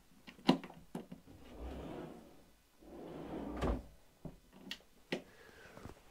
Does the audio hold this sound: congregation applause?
no